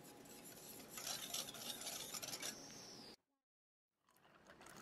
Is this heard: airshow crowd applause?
no